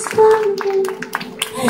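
Scattered applause of sharp, irregular claps from a small crowd at a quinceañera entrance waltz, over a sustained tone and some voices.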